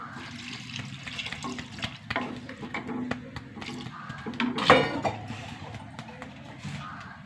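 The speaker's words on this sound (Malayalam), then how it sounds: "ഇനി വെള്ളം ഒഴിച്ച് കൊടുക്കുക." Water poured into a pot of curry with fried spice powders, tomato and curry leaves, making a continuous splashing pour that swells briefly near the middle, with faint kitchen noise around it.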